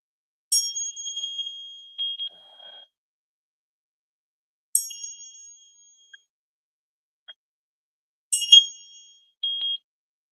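Hanging bells bought at a gem and mineral show ring out in three separate bright strikes, each one lingering and vibrating before fading, with short quieter chimes between them and no voices.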